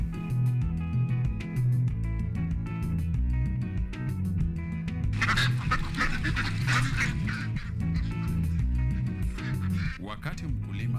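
Ducks quack repeatedly on a farm, a dense run of calls mixed with other fowl noise and a steady low background, growing busier and louder midway through.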